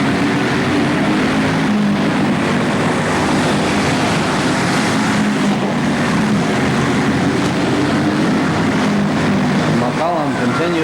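Go-karts race at Orange County Fair Speedway's Thunderdome in 1998, a loud, continuous buzz of small engines roaring around the track with an announcer talking over the din.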